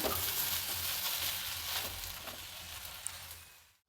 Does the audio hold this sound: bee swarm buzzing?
no